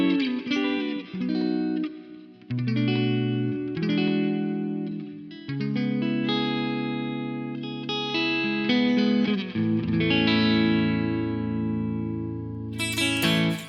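High-gain distorted electric guitar through a Two Notes Genome amp simulation with the gain maxed and reverb on, playing sustained chords and riffs with short pauses, loud and alone.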